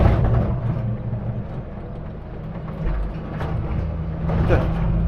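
A Stage One V8 Land Rover, an ex-New Zealand Army vehicle, drones steadily with a loud low engine rumble that swells slightly as it accelerates, filling the whole stretch without pause.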